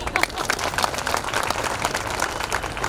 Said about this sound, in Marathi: तुम्हीच तुमच्यासाठी टाळ्या वाजवत असं मी तुम्हाला विनंती करतो